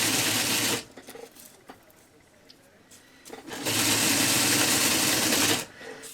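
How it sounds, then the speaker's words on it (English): A sewing machine stitches down the center of folded bias facing for a hairband, whirring in two close bursts separated by a quiet pause with faint handling noises. "I'm going to just sew right down the center of it."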